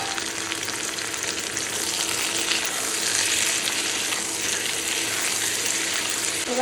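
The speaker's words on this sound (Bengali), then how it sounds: "এবার আমি চিকেনটা দিয়ে দেবো" Chicken pieces sizzle in hot oil with fried chopped onions and bay leaf for a homemade biryani, giving a loud, steady, close hiss that carries through the whole stretch without talk.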